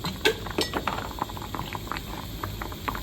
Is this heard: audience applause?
no